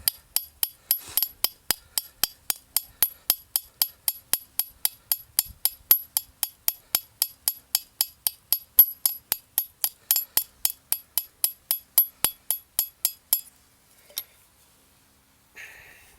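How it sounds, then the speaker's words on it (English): Hand hammering on copper sheet at an outdoor camp, a long run of evenly spaced, ringing metallic strikes, bright and close, which stops after about thirteen seconds followed by one last tap. "What I need to do now is hammer the other side and then cook it again."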